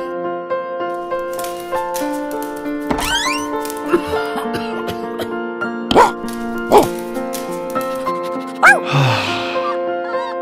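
Dog in the Roblox game Brookhaven giving a few short, separate barks and yips spread over several seconds, set against looping game music.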